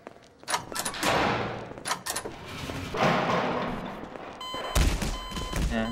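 Gunfire in a cops-and-runners video game, with sharp repeated bursts of shots and thuds scattered through the stretch, loud and close, mixed with other game noise.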